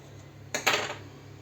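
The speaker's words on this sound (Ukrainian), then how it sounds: "Тут я помила абрикоси і будемо нарізати їх на такі дольки" A knife slicing washed apricots into wedges for a galette gives a single short clink of the blade against the board, faint and near, with quiet background otherwise.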